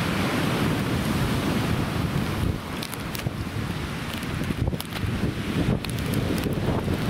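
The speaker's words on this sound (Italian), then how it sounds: "La miseria che vento" Strong seaside wind roars across the microphone in steady broadband gusts, briefly easing midway before buffeting back at full force; no voices.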